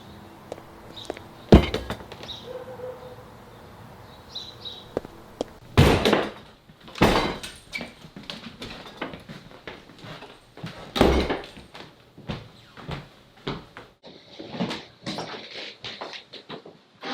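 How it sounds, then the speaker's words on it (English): Several heavy, broadband door impacts from a kick attempt: a sharp thud near 1.5 s, then loud bangs around 6, 7 and 11 s, with lighter knocks and rattling scattered between, set indoors with no talk. "Since when do you kick doors down?"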